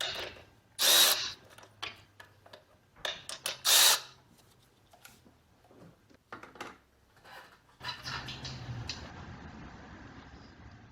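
A socket ratchet loosens a 10mm nut on the alternator's positive cable terminal of a 2006–2010 Honda Civic 1.8L, with bursts of rapid clicking, scraping and handling noises, then a steadier rustling stretch at the end.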